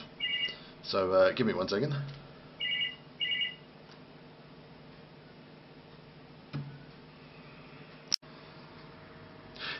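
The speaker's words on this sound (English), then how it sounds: "my phone's going off" A mobile phone rings in two short repeated bursts, fairly quiet, right after someone speaks over it, followed by a lull and a sharp click.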